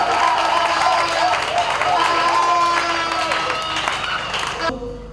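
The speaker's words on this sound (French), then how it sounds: "je voudrais qu'on acclame très fort pour le Seigneur" A church congregation at a wedding blessing claps and cheers loudly for the Lord, a dense sustained burst of applause and shouting voices that cuts off abruptly near the end.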